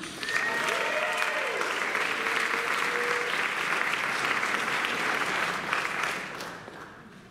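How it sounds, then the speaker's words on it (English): An audience applauds and cheers loudly at a tribute event for comedian Gilda Radner, dense steady clapping with scattered whoops that holds for about six seconds before tapering off. "Everyone make some noise for Gilda!"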